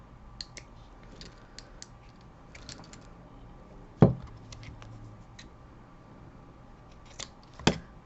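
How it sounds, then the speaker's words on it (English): Scissors snip a tangled string off a jewelry pendant, giving two sharp close cuts several seconds apart over soft handling clicks and light rustling. "So we're going to cut the string."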